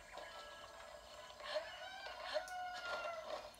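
Chickens cluck and squawk in a video game, a few soft repeated calls over a quiet ambient backdrop with no talking.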